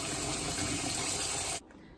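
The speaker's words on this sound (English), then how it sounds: "Now fill the pot with water 1 inch above the potatoes." Water gushes steadily into a pot of potatoes, a loud, continuous rushing spray from a tap that cuts off abruptly near the end.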